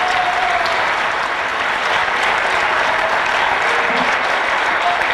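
An audience welcomes the poet Amjad Islam Amjad with loud, continuous applause, a thick, unbroken roar of clapping that holds steady from start to finish.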